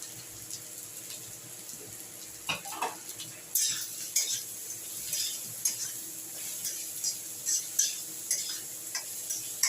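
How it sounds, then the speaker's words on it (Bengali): Four hundred grams of chopped onions sizzle in hot oil, a steady soft fry under repeated clinks and scrapes of a utensil stirring against the pan, with no talk. "আমি তেলটা গরম হয়ে গেছে, এর মধ্যে আমি পেঁয়াজগুলো দিয়ে দিলাম।"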